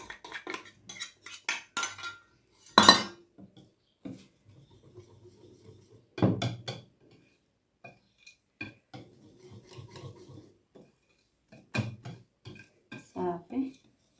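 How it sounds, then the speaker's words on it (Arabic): Utensil scraping and clinking against a bowl while cake batter is stirred, in uneven bursts of rubbing and tapping with a few louder knocks, close up. "غادي نخلطهم عاوتاني مزيان مزيان مزيان"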